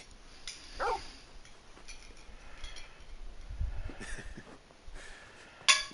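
A dog in the Final Fantasy XVI video game lets out a short high whimper, then soft snuffling and a faint low bark over quiet background ambience, ending with a sharp brief sound effect.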